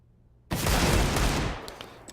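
Gunfire in Counter-Strike during a competitive match: a sudden loud burst of rapid shots that rings for about a second, then fades into a quieter tail with a few faint clicks.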